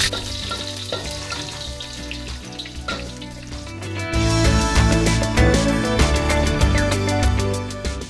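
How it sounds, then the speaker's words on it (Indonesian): Blended spice paste with kaffir lime leaves, lemongrass, ginger and galangal sizzles in hot oil for an Indonesian prawn and quail egg sambal, a loud, continuous crackling fry with scraping stirs, growing stronger midway. "Kita tumis sesaat."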